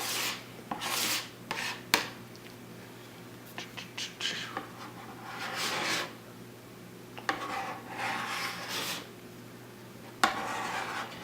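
A plastic scraper rasps wax off a snowboard in short, repeated scraping strokes with pauses between them, close and fairly quiet against a faint background hum.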